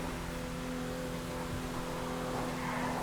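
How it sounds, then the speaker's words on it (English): Car spinning in constant donuts in GTA, a steady engine drone with tonal hum and faint tire scrubbing held throughout at a consistent level, with no talk. "But like you try to turn around and it just constantly donuts."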